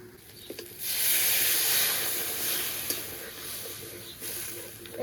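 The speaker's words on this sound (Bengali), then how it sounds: "এখন পরিমাণ মতো জল দিয়ে দিতে হবে কিন্তু বেশি নয়" Water poured into hot frying masala for egg curry bursts into a loud, sustained steamy hiss and sizzle that gradually eases off, close up with no talking.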